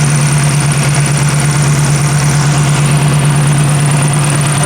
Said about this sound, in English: has a big old exhaust. The downpipe is cooked. It's cracked.